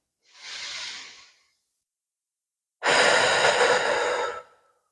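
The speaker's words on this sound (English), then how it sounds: "take a nice deep breath in and a breath out" A slow, deep breath is drawn in softly, followed after a pause by a louder, longer exhale, close to the microphone with no speech.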